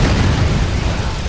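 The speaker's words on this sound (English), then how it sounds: "Those bikes are gonna explode." Motorbikes blowing up in the video game Dead Rising 3, heard as a loud, close booming burst that rolls on and fades over about a second, with no voices over it.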